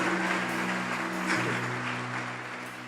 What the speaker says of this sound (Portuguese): Salva de palmas para os nossos voluntários apaixonados